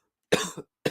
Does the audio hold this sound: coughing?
yes